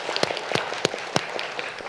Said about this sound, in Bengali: তাদের জন্য জোরে তালি দিতে চাই